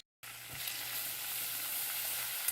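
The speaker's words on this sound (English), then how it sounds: "While those meatballs sizzle" Swedish meatballs sizzle in a frying pan with a steady, even hiss of hot fat that starts abruptly after a brief silence and continues close and unbroken.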